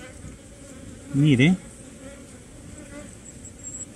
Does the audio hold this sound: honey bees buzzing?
yes